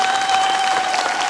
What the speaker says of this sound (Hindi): सबके लिए जोर से ताली बजाएं